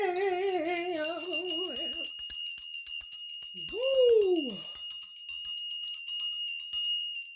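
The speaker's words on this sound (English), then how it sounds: "Let me ring my bell." A hand bell rung for a cleansing ritual, its long bright metallic tone sustaining and slowly decaying across the whole stretch, with a brief vocal exclamation and a short wavering vocal sound over it.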